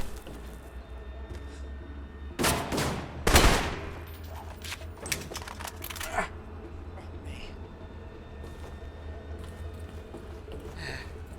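Video game gunfire bursts in the middle, a few loud sharp volleys of shots and a later rattle, over a low steady rumble, then fades to quieter scattered sounds.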